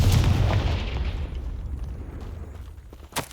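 A Confringo explosive spell goes off in Hogwarts Legacy, played on Xbox Series X: one loud, close boom with a rumbling tail that fades over a few seconds, then a brief sharp pop near the end.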